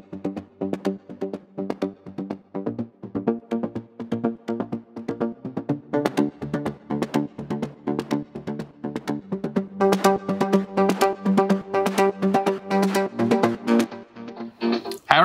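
A Diva synth preset plays a busy, rhythmic pattern of plucked notes, washed in reverb, chorus and echoing tape delay repeats, building denser toward the end with no voices.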